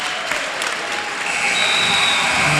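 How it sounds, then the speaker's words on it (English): Large crowd in a school gym applauding and cheering as a high school team clinches a Group II wrestling championship, dense steady clapping and roar that swells louder toward the end. "you're about to hear this crowd because they realize we just sealed up another Gr.II championship"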